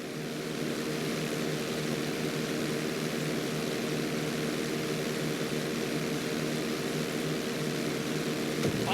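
In GTA V flight school, a propeller plane's engine roars steadily during takeoff down the runway, a constant loud buzzing drone that holds unchanged with no voices.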